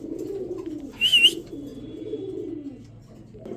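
Red Bombay pigeons coo softly and steadily in a low rolling murmur, with one brief sharp chirp rising over it near the middle.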